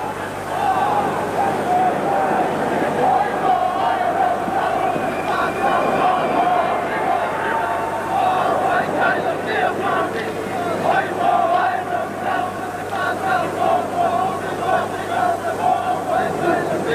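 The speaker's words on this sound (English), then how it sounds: "Great round of applause for the Western Samoans" A stadium rugby crowd roars and cheers for the Western Samoan team, a broad continuous swell of noise with a commentator talking over it throughout.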